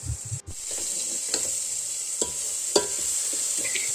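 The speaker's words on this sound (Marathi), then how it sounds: "सर्व मसाले घातल्यानंतर मी आता हे छान तेलामध्ये परतून घेते" Spices sautéing in oil on a village wood-fired chulha, a close, steady sizzle broken by a few stirring scrapes and clinks against the pan, with a brief dip near the start.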